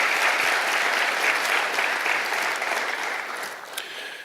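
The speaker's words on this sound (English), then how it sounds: "Please give them a round of applause." A ceremony audience at an education awards event gives a round of applause, a full, even wash of many hands clapping that holds steady and then slowly tapers off.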